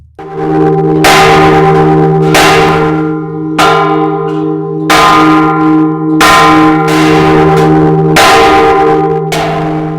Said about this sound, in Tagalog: Nung marating ang kampanarya, inumpisahan na ni Nonoy ang pagpapa batingaw